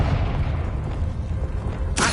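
A blasting spell explosion from a Harry Potter video game: a steady, loud rumbling wash of noise, ending in a sharp, bright burst near the end of the short clip.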